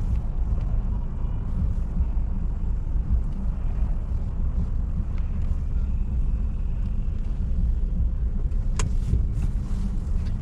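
Car crawling through a Kyiv traffic jam, a constant broadband road and wind roar inside the vehicle, steady and moderately loud with a brief sharper tick near the end and no talking.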